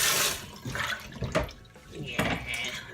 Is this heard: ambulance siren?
no